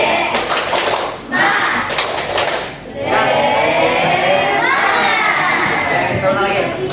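Schoolchildren in a classroom do a rhythmic spirit clap: two quick bursts of patterned clapping, then a sustained mix of clapping and lively young voices chanting and shouting together, close and loud.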